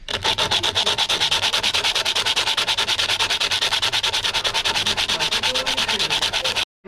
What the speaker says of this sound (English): I've just got to sand it down on here